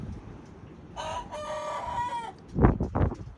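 Chickens in a backyard coop courtyard, with a rooster crowing a long, clear call near the mic, followed by a few loud, close clucks over faint background.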